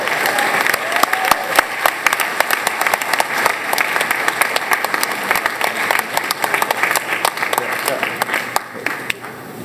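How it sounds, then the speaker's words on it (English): Enthusiastic audience applause fills an award ceremony hall as a WWE Hall of Famer receives a legendary stunt award, with dense sustained clapping and crowd noise lasting throughout, loud and close. "Please give him a big, warm round of applause."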